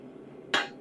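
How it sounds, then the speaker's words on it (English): A single sharp hammer strike rings out on the edge of a metal pauldron armor piece, a loud close clang with a brief metallic decay over a low background hum. "hammering on that edge a little bit to make it a little easier to get this guy back in the forge"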